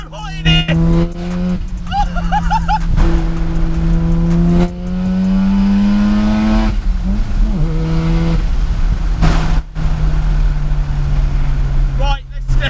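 A 410 bhp wide-arch Mazda RX7 FD with a big turbo and a screamer pipe, its engine droning and revving loudly from inside the car while someone talks over it.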